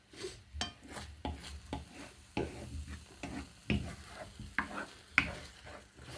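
Eggs with vegetables cooking in a pan for a Cypriot dish, a soft sizzle broken by repeated scraping and stirring strokes, with light clinks of utensil against pan, no voices.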